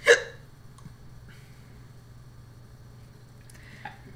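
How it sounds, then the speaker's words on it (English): A single sharp hiccup sounds at the very start, close and clear, followed by quiet room tone with a faint low hum. "Let's hope this doesn't start a series of hiccups."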